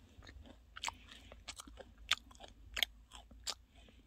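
Crunchy homemade potato cookie with a hard, crisp dough crust being bitten and chewed, giving sharp, close crackling crunches at irregular intervals against a quiet background, with no talking.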